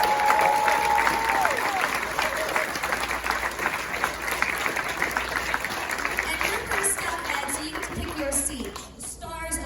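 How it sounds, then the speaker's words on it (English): A horror convention audience gives sustained applause at a Blair Witch Project reunion panel, thick steady clapping with some cheering, a voice briefly audible at the start and talk cutting in near the end as it tapers. "Let's give him a round of applause!"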